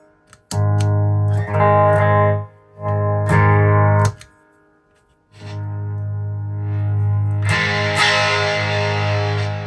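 Heavily distorted electric guitar chords, played through a vintage Ross Distortion pedal, ring out in several sustained bursts with short gaps, ending in a brighter, fuzzier strum.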